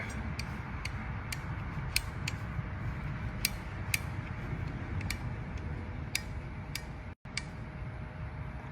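A greased flaring mandrel slowly works the end of an aluminum brake tube on a Piper Comanche, giving faint, irregularly spaced creaks and ticks over a steady background hiss.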